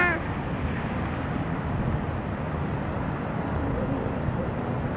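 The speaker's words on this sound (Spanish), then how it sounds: "Seguido pasan aviones por aquí." Airplane near Tijuana airport roaring overhead at night, a broad, steady rumble that fills the whole clip at moderate loudness, with no talk.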